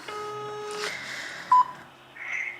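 Touch-tone phone keypad dialing a number: a long steady dual tone, then a short beep and a softer tone, clear and close with no talking.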